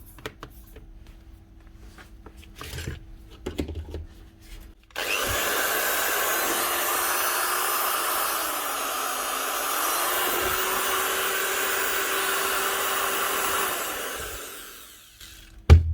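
A repaired Trend T4EL electric router, formerly noisy, whines into life after a few clicks, running at a steady high-pitched buzz for several seconds before spinning down.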